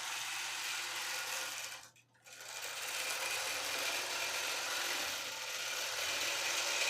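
A sewing machine quilting fabric runs with a steady, close mechanical whir, stopping briefly once before resuming, with no talking.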